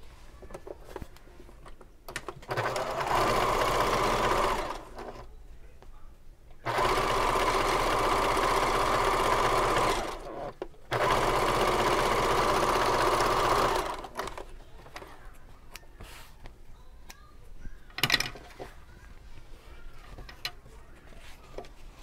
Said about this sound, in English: we are going to sew these together across the top